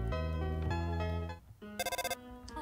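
Electronic phone ring from the Undertale video game, a bright tonal chime over a sustained musical background, followed by a short burst of rapid trilling pulses near the end.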